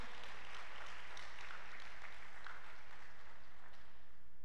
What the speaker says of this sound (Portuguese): Você pode aplaudir mais alto, porque é para o Senhor.